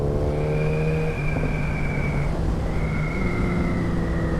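A Suzuki GSX-S1000 GX motorcycle engine drones loud and close through the mid-range, a steady rumbling pull with its pitch climbing, easing off briefly, then pulling again, with no talking.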